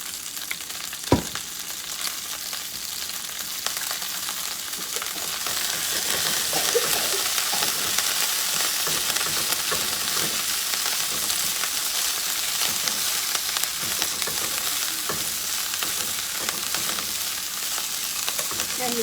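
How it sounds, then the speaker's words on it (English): Food sizzles in hot oil in a pan while making creamy chicken with kale and mushrooms, a steady close frying hiss that swells a little after a brief knock near the start. "And you kind of fry that down just a little bit."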